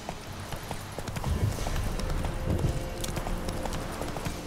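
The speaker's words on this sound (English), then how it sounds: "But still, Roach is gonna help me get there. More swiftly" A horse's hooves clip-clop steadily in The Witcher 3: Wild Hunt, a continuous rhythmic gallop over a dense bed of game ambience and music.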